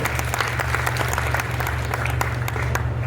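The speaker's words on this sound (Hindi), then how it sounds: "इनके लिए भी जोरदार तालियां बजा दीजिए आप" A crowd at a political rally in Gorakhpur claps loudly and steadily for the district in-charge, a dense, continuous applause with a low hum underneath throughout.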